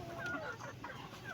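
A hen clucks in a series of soft, close murmuring calls, with a few higher notes rising above a low, noisy farmyard background.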